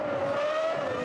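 A race car in a Grand Prix racing game skids under hard braking at the Italian Grand Prix, a sustained tire squeal over engine noise, loud and close for about a second.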